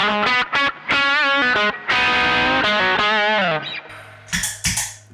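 Electric guitar lead tone from two Caline pedals stacked together, bending and vibrato-laden distorted single notes in short phrases, loud and close, ending with scratchy muted pick noises.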